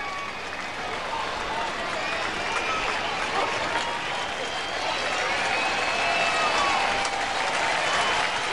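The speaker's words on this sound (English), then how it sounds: "Crowd trying to urge Maine through the inning." A Cubs vs Mets baseball stadium crowd cheers and claps continuously, a dense, steady roar of applause and shouting that swells slightly toward the end.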